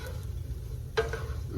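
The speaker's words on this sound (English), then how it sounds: "I have it on medium heat and I'm just continually stirring around" Croutons being stirred in a pan of butter with minced garlic over medium heat: a steady soft sizzle with one sharper scrape of the utensil partway through, close and fairly quiet.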